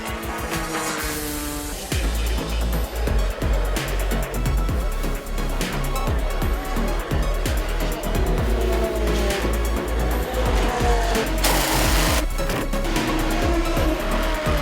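LMP1, LMP2 and GT prototype and sports cars race at Silverstone during the 6 Hours endurance event, loud engines roaring past one after another in rapid succession with revving and gear changes, continuous and close to the track.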